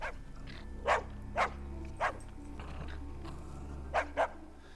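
A dog barks in a scene from the 2007 horror film Trick 'r Treat: about six sharp, separate barks, with two quick pairs, over a steady low hum.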